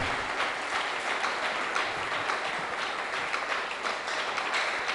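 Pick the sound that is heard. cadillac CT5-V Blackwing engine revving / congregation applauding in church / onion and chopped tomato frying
congregation applauding in church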